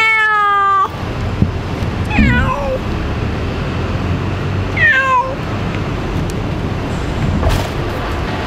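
A cat meows a few times, short rising calls spaced a couple of seconds apart, close and fairly clear over steady outdoor background noise after a brief tonal sound at the start.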